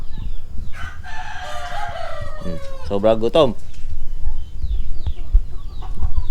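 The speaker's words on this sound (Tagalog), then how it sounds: "Pasensya na sa mga tilaok ng manok, maaga pa, alas 6 pa lang." A rooster crows loudly nearby on a rural farm at six in the morning, with chickens clucking and scratching around it, while a person talks briefly over the outdoor background.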